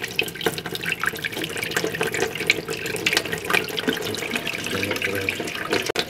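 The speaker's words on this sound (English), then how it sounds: "Back under the hot water again." Hot water runs from a tap over a mudlarking find being cleaned in a sink, a steady close splashing stream with small drips and clinks, no voices.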